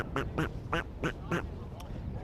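Comic duck quack sound effect dropped into a cricket broadcast of an ECS Cyprus match after a batter is out without scoring: five evenly spaced, fairly loud quacks, then one fainter one, over low background hum.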